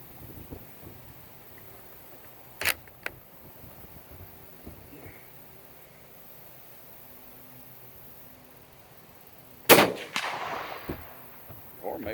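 Two sharp, loud rifle reports from a Turkish Mauser 7.92, an old used gun, fired outdoors several seconds apart, the second ringing out with a longer echoing tail over faint background noise.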